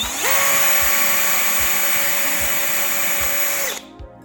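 A power drill bores a small hole in a plastic aftermarket air intake on a Toyota MR2, a steady high-pitched whine running for several seconds with faint knocks beneath, then cutting off abruptly.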